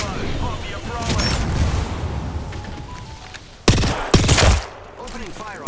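Bursts of automatic gunfire in Apex Legends ring out near the end, loud and close, after a stretch of game noise and voice chatter.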